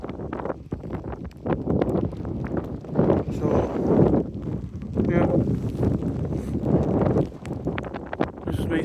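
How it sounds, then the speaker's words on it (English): Wind buffets the microphone in strong rumbling gusts at a wet, misty wild campsite at Cleadon Mill, nearly constant throughout, with a voice speaking briefly underneath. "it is a bit windy and quite wet"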